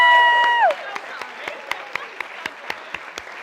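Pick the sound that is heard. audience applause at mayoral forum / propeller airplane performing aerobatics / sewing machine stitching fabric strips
audience applause at mayoral forum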